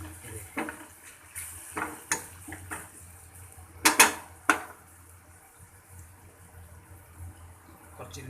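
A spoon stirs mushroom masala with soy sauce and chili sauce in a metal pan, giving a few sharp clinks and scrapes against the pan amid a soft kitchen background.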